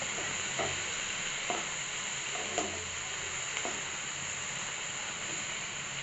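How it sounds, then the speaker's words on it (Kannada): Tomatoes frying in a pan give a steady sizzle and hiss, close and constant, with a few soft knocks of a utensil stirring. "ಇದು ಸ್ವಲ್ಪ ಫ್ರೈ ಆಗಬೇಕು ಚೆನ್ನಾಗಿ ಫ್ರೈ ಆದರೆ ಚೆನ್ನಾಗಿರುತ್ತೆ"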